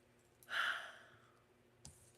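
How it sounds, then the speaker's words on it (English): A single breathy yawn swelling and tapering off over about half a second, quiet and close, followed by a faint click. "Why I'm yawning, I don't know."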